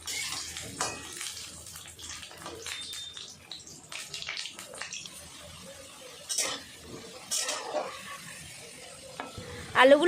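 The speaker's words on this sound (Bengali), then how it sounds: "তেল গরম হয়ে গেছে, আলুগুলো ভেজে নেব।" Potatoes frying in hot mustard oil in a kadai, giving a soft, crackling sizzle with intermittent stirring and clinks, plus a louder scrape at the end.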